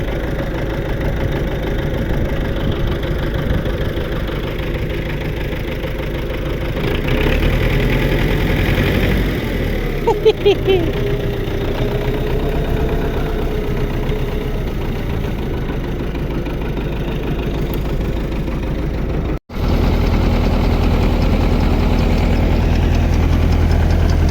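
The engine of a newly unpacked crop sprayer runs steadily with a loud, low, even drone, with a brief dropout before it continues.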